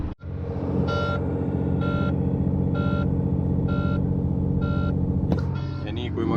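A vehicle's warning beeper sounds in five evenly spaced electronic pulses over a steady, loud engine rumble as the engine is revved, and the beeping stops near the end while the engine keeps running.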